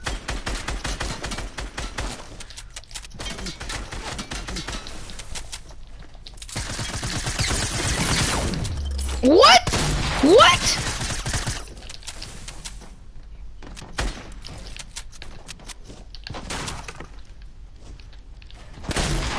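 Rapid gunfire in a video game, with sustained bursts of shooting that stop and start across the scene, mostly loud and close, with a person briefly speaking.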